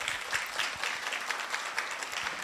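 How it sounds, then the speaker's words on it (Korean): Audience applause fills a hall at a labour ministry event in Korea, a steady dense patter of many hands clapping throughout, moderately loud with no talk over it. "여러분 박수 한번 해주세요."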